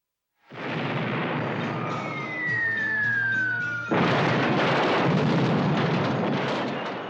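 A long roaring blast of miniature special-effects explosions rumbles steadily, then a second louder burst of crackling explosion noise takes over and sustains, close and dense, with no voices.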